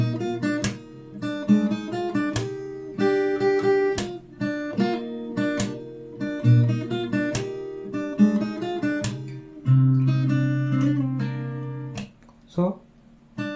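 Fingerpicked guitar plays the verse melody of a song, with plucked notes and bass tones in a steady, gentle rhythm, close and solo without talk.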